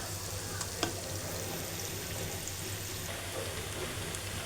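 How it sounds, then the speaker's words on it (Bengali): Onions frying in a pan for chicken biryani, a steady close sizzle with faint stirring and one small clink, continuous throughout without talk. "তো আমি পেঁয়াজটা একটু ভেজে নিচ্ছি।"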